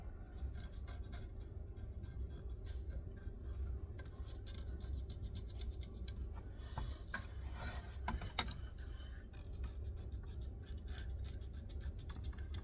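Soft residue is scraped off an AR lower receiver, making faint, close rasping and scratching strokes with a few small clicks over a low background hum, with no speech.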